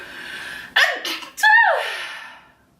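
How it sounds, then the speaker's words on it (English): One sharp sneeze, preceded by a quick intake of breath and followed by a sighing exhale that trails off, close and fairly loud. "My powder always makes me sneeze"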